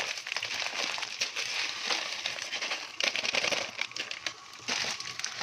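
Dry orzo (bird's tongue pasta) pours from a bag into a pot with a continuous crisp rattling hiss of tiny pieces, steady and close, with a brief break midway.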